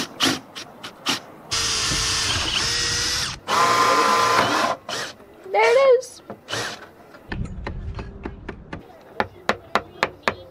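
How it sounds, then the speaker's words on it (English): A power drill bores holes in teak on a sailboat, running in two loud sustained whines separated by clicks and handling knocks, with a short pitch-sliding burst and a lower drone later, ending in a string of sharp taps. "Drill some holes in the boat."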